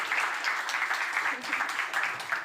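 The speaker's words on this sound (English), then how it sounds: "So let's give a big round of applause to give motivation to André Santos." Audience applause at the MIT Portugal annual conference, a steady dense patter of many hands clapping continuously, fairly close and even in loudness.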